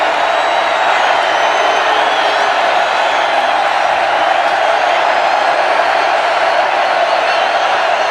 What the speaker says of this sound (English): What crowd is left is being heard from.